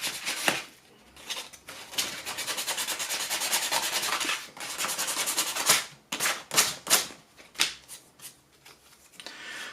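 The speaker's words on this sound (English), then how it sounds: "we're just going to run our sandpaper on the actual piece here." Sandpaper scrubs across a 3D-printed plastic OTF hidden-blade piece in rapid, steady back-and-forth rasping strokes, close and fairly loud, with brief pauses and a burst of short separate rubs toward the end; no one speaks.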